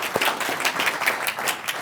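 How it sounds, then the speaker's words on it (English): Audience at a student innovation competition giving a short, brisk round of applause, dense clapping throughout at moderate volume. "let's have a big round of applause for the results coming in"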